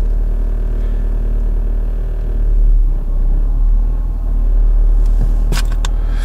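A Renault Arkana idling after a cold start in freezing weather, a loud, steady low engine rumble that swells and dips slightly, with a few brief clicks near the end.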